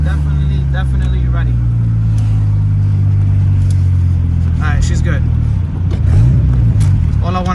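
A Honda Civic with a new turbo accelerates with a loud, droning exhaust note that climbs and then drops away, while people talk over it near the end.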